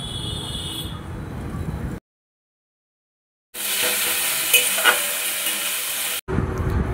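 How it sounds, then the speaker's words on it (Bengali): Ginger garlic paste hits softened onions in a hot pan with a loud, close hiss and crackle, broken by abrupt stretches of total silence, with some faint stirring scrapes. "এখন আদা রসুন বাটাটা দিয়ে দেবো।"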